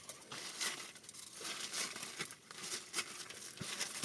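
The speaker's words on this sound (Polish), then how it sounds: "ukulana kolejna kuleczka miedzi." Thin copper foil being crumpled by hand into a small ball, a quiet, continuous crinkling and crackling close by with no talk over it.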